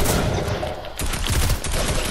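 Continuous rapid gunfire from a Fortnite match fills the scene, a dense, loud barrage of shots with a short lull in the middle before the firing resumes just as heavily.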